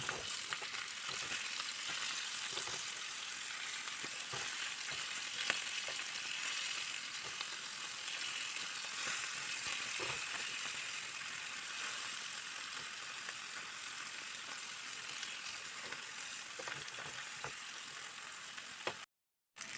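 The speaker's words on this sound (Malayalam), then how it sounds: "മീൻ രണ്ട് വശവും ഫ്രൈ ആയി വന്നിട്ടുണ്ട്." Fish fries in a pan with a steady, bright sizzle and crackle that runs evenly throughout, close and moderately quiet, with occasional faint clicks and no talk, ending abruptly.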